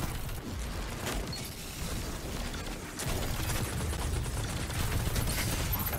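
Enemy fire in Destiny 2 competitive multiplayer, a clattering stream of gunshots and mechanical rattles that swells louder in the second half, steady and close with no voices.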